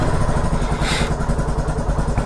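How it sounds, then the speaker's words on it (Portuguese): A low-displacement motorcycle engine runs close by with a steady, rough low rumble, holding at idle with a brief brighter surge in the middle. "Ligar a moto, certo?"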